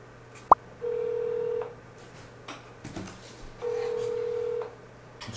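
An outgoing telephone call goes unanswered: a short click, then two long, steady ringback tones separated by a pause, heard clearly in a quiet room.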